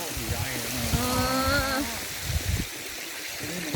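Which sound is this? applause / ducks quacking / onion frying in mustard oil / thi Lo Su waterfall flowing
thi Lo Su waterfall flowing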